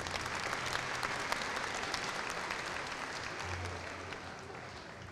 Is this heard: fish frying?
no